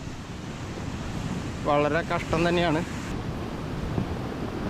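Rough sea surf pounds the shore during an unexpected coastal sea surge, a steady broadband roar mixed with wind noise, with someone speaking briefly over it in the middle.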